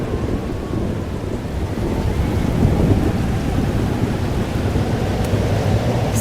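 Thunderstorm in the game Life is Strange: Double Exposure: steady heavy rain with a low continuous rumble of thunder swelling through the middle, loud and enveloping, with no voices.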